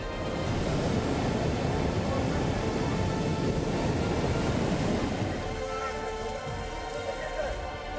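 Heavy, steady rain pours down during flooding in Kathua, Jammu and Kashmir, a dense roar of drops on surfaces that eases slightly toward the end.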